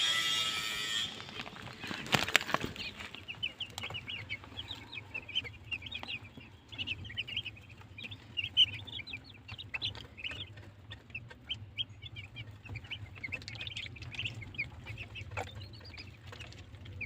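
White chickens clucking steadily in a poultry pen, many birds murmuring together at close range over a low constant hum, with a brief louder rustle near the start.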